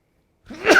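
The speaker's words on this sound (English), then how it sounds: "I had to sneeze" A single close sneeze bursts out after a moment of silence, short and loud.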